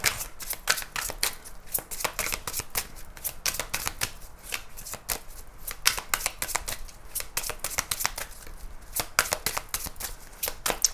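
Tarot cards being shuffled by hand in a rapid, continuous run of crisp riffling and flicking bursts, close and steady, with no talking.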